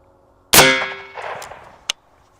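A green tip 5.56 rifle round is fired into mud tires, giving one sharp, loud crack with a ringing metallic tail and a second brief hard snap a moment later.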